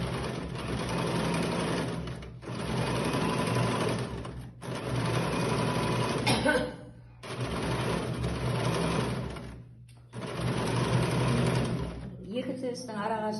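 A sewing machine runs two parallel straight stitch lines half a centimetre apart for gathering ruffles, in several long steady bursts separated by short pauses, loud and close.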